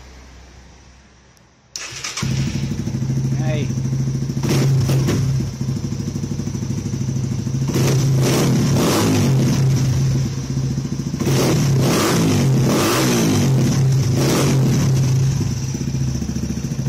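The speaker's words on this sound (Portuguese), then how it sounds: "Vou ver se eu dou uma ligada nessa motinha aqui para mostrar para vocês aí o barulho." A Yamaha TTR 230 motorcycle fitted with an adapted SFX exhaust starts up and idles loudly nearby, with repeated throttle revs rising over the steady engine note; a short word is spoken at one point.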